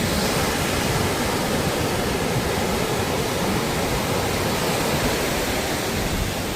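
Steady, dense roar of sea surf at Vengurla fills the whole stretch, a broad continuous wash with no breaks and no voices.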